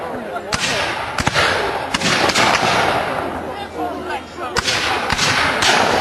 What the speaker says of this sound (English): those troops firing shoulder-to-shoulder volleys